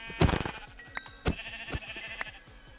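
Sheep bleating in the Minecraft video game, several short bleats one after another at uneven intervals, close and clear over a quiet background.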